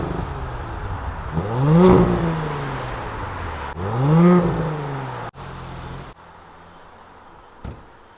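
Factory exhaust on an Audi S4/S5 revving, two rising-and-falling engine blips that swell loudly then drop away, followed by a quieter steady idle and a short clunk near the end.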